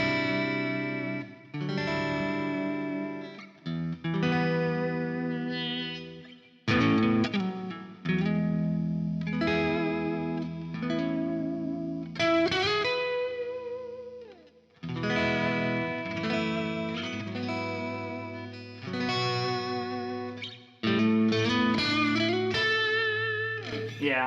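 An electric guitar with a smooth tremolo bridge plays sustained chords and single notes with pitch-bending vibrato and effects, in phrases separated by brief pauses, loud and close with no talk.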